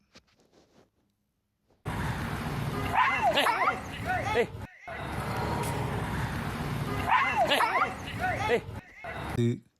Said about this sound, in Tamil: அந்த நாயை அவர் உதைந்த காட்சி